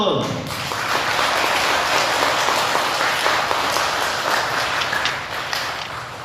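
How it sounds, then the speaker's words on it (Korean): Applause from the congregation at a Buddhist dharma service in a temple hall, a dense steady clapping that swells quickly and holds for several seconds, with faint voices underneath. "이렇게 또 박수로 속공해 주니까 무척 기쁘고"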